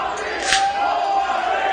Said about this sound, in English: listen to the reception he's getting from this SHW crowd